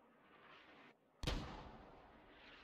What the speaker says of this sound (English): more good call-ins with mortars